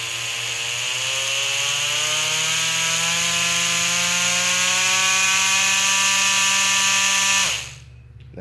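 A DGT rotary tattoo machine turned up to a higher voltage whines with a loud, steady motor buzz whose pitch climbs slightly as it runs, then cuts out abruptly near the end.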